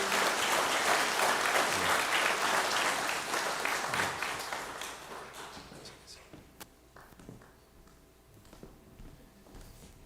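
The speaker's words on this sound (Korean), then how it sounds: "교회 여러분들 사랑으로 박수하며 환영해 주십시오." A church congregation at a Christmas Sunday service in a Korean Methodist church applauds a newly baptized member, loud sustained clapping that fades away after about five seconds, leaving scattered quiet room sounds and a few faint taps.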